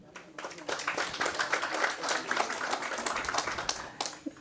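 Applause from a conference audience at a national shelters gathering, fairly quiet and distant, a dense patter of clapping that swells briefly and then thins out near the end.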